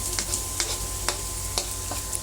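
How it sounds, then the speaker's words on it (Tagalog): Garlic and onion sautéing in a hot pan for chop suey, a steady close sizzle with sharp periodic clicks of a utensil stirring, no voices. "Ngayon isunod naman po natin ang bawang. Igisa lang po natin ng maigi."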